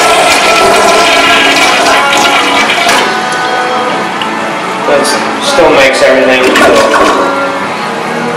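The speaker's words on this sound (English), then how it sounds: "we're going to go ahead and push in on the lower flush and show you what it looks like" Nearby dual flush toilet flushing on its smaller lower button, water rushing and gurgling for several seconds while someone talks over it.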